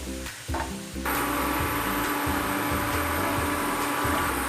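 Oil sizzles loudly in a pan after a few brief clatters, then holds as a dense, continuous frying hiss close by.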